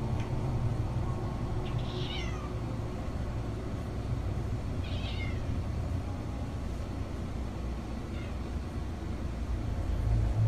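A cat meows three times, spaced a few seconds apart, each call faint against a steady low rumble of background noise.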